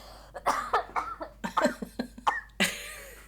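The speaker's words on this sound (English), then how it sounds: "I'm about to cough." A run of sharp coughs, about a dozen short bursts in quick succession, close and fairly loud.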